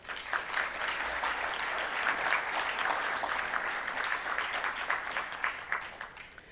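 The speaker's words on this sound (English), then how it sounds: "Let's give another round of applause and a louder round of applause" Steady applause from a large crowd at a small business summit, continuous clapping at moderate volume that holds throughout without letting up.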